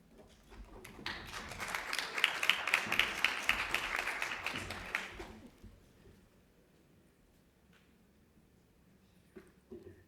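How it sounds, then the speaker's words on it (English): An audience applauding at a conference session, a burst of many hands clapping that swells for about four seconds and then fades quickly, followed by near silence with a few faint taps. "Please, a round of applause."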